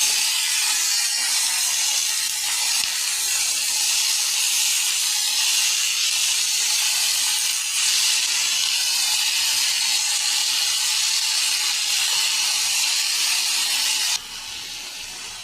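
Leafy greens hit hot oil already frying with mustard and ginger, giving a loud, continuous close-up hiss and sizzle that runs for many seconds before easing to a quieter spit near the end.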